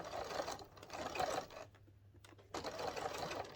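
A sewing machine stitches a round boxed cushion in steady, close bursts, stopping briefly in the middle before running again.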